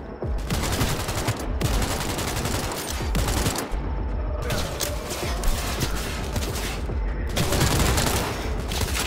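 Sustained gunfire rattles in the Cyberpunk 2077 video game: loud, dense bursts of rapid shots with only brief pauses between volleys, over a heavy low rumble.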